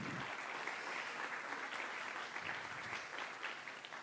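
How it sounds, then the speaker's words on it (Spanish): Audience applause for a production team at a talk, a steady dense patter of many hands, fairly faint and distant, with no voices over it. "Denle un aplauso a todo el equipo de producción que ha hecho todo esto."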